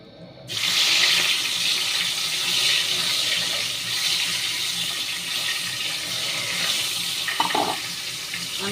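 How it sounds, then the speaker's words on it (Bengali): Fish slipped into hot oil for a Bengali fish curry with potato and eggplant sets off a sudden loud, close sizzle that stays as a steady hiss, with no talk. "তেলটা গরম হয়ে গেছে, এবার আমি মাছগুলোকে ছাড়বো।"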